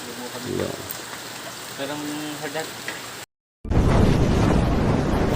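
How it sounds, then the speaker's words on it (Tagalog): Steady rain hisses loudly on a surface in the mountains of Pinamalayan, broken by a short silence, with faint talk and a few clinks under the downpour at the start. "grabe hinabot na kami dito ng ulan oh"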